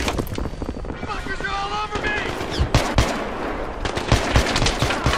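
Bursts of automatic gunfire and scattered shots in Battlefield 3 online multiplayer, rapid repeated cracks under a rumbling mix of game effects, with a voice speaking briefly over the action.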